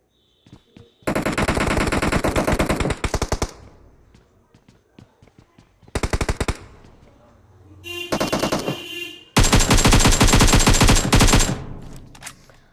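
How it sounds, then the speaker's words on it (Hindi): Rapid automatic gunfire in the mobile battle game PUBG Mobile, several loud bursts of machine-gun fire separated by short pauses, close and dominant, with footsteps between bursts. "बहुत सारी फायरिंग की साउंड आ रही है।"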